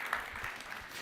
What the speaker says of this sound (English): Can I get a round of applause for Sandy for working on diabetes?